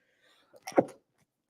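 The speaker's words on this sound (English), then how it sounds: "Had to sneeze again." A single quick sneeze, short and fairly faint, alone in a quiet room.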